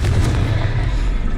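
A Confringo fire spell from Hogwarts Legacy erupts in heavy, booming blasts, a loud continuous rumble of explosive fire with deep low-end weight lasting the whole moment.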